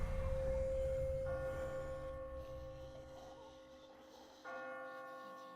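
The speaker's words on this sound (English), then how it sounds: "I just got spooked by those bells" Church bells toll in The Walking Dead game, deep resonant strikes ringing out at a distance and fading with long decays, a fresh strike arriving near the end over a faint low rumble.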